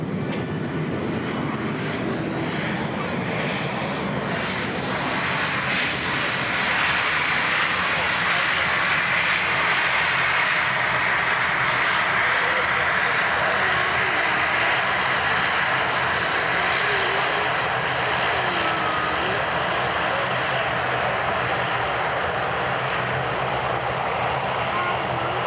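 Jazz airliner arriving from Toronto at an airport during an airshow, a loud sustained roar of aircraft engines that swells and holds steady for the whole stretch, with some talk mixed in underneath.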